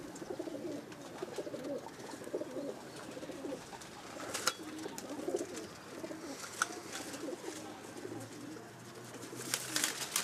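Golden Teddy Salare pigeons kept at a house coo softly and repeatedly, faint and somewhat distant, with light rustling and occasional sharp clicks around them.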